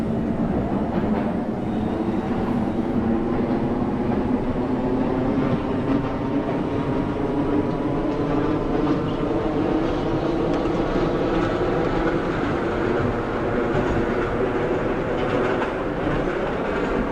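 An R32 subway train on the C line, simulated in the OpenBVE train game, runs continuously with a loud steady motor drone and rhythmic rail clatter building in pitch, with no voices.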